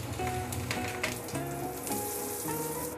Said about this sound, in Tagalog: Lagyan natin ng 25 grams na butter. 1 teaspoon na mantika. Tunawin lang natin yung ating butter.